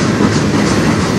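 CN manifest freight cars roll past at close range on the Strathroy Subdivision, a loud, dense rumble and rattle of wheels filling the whole stretch.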